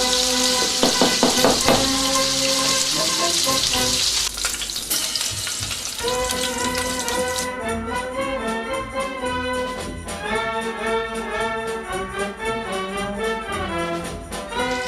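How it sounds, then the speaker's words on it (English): Sealed spicy Italian meatballs frying and bubbling in sauce in a pan, a loud continuous sizzle with occasional stirring scrapes. Steady tonal music plays throughout. "Now that these meatballs are sealed, they're going to go straight in the sauce."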